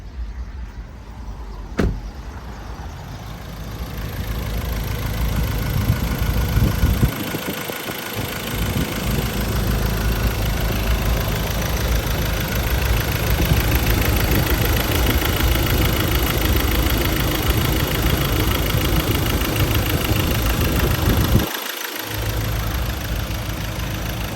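A 2016 Ford Ranger FX4 2.2 Hi-Rider pickup idles steadily for about 24 seconds, its low diesel engine drone loud and close, with a sharp click early on and a brief dip near the end.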